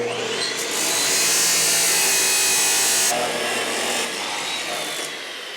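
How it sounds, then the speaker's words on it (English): An abrasive chop saw cuts metal at close range during work on a log splitter stand, with a loud sustained high grinding screech that swells and then eases off as the cut finishes, a voice briefly heard. "I'm using the abrasive chop saw tonight just because I don't want to burn up the blade on my nice Evolution saw"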